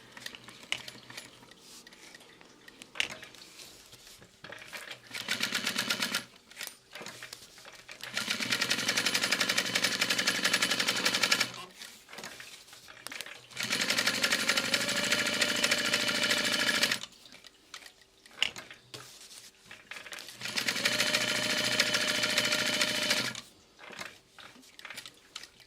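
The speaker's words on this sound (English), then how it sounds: "So I'm just sewing all the way around the edges and then back stitching out." A sewing machine stitches around the edges of a messenger bag in several long steady runs of fast rattling, separated by pauses with handling noise, close and fairly loud.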